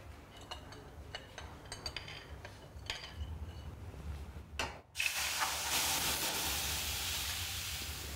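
Water and oil poured into a hot cooking pan. Quiet clinks come first, then a sudden loud hiss about halfway through that continues steadily to the end.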